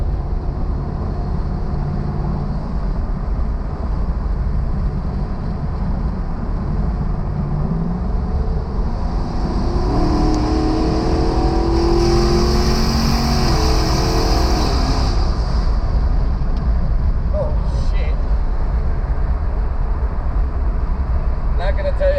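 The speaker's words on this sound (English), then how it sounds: "Hopefully you can hear the truck." A twin-turbo 5.0 V8 Ford F-150 pickup roars and builds as it accelerates hard, with heavy wind rushing throughout and a voice speaking over the noise.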